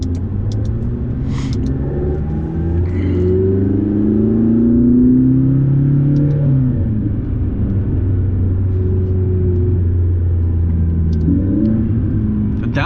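Supercar engine rumbles and revs steadily from inside the cabin while downshifting through the gears, a low continuous drone with rising and falling pitch swells, fairly loud and close, no talking.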